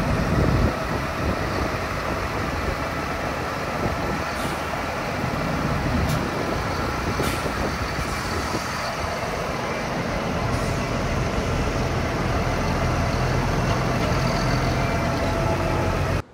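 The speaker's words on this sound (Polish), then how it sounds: "Jest ciągnik, wyjechał z warsztatu, jest już na placu" A Fendt 936 tractor drives out of a workshop onto a yard, its engine a steady, loud, low diesel rumble that carries on unbroken, close by.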